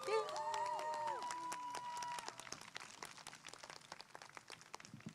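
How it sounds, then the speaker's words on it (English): Scattered clapping from an audience at a candlelight vigil fills the room after a brief spoken or sung phrase at the start, the claps sharp and uneven, thinning out toward the end. "So can I have a round of applause for Valencia, please?"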